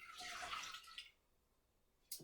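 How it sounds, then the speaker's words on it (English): Natural egg dye poured from a container back into a pot on an unlit burner, a short splashing trickle of liquid that fades, followed by a single small drip or clink. "I'm going to pour the dye back into the pot."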